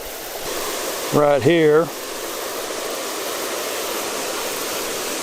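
Spring water pours steadily into a spring creek, diverted and gated near an old mill flume, a constant broadband rush throughout with a brief burst of talk early on.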